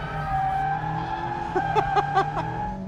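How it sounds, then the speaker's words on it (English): A Mazda MX-5 GT RS on a sunny racetrack gives a steady, loud engine drone heard from inside the car, with a few short tire squeals near the end. "Sunny day, racetrack, MX-5, driving comes no better than this."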